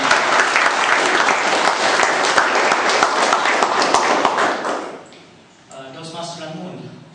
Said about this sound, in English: A big round of applause to Toastmasters.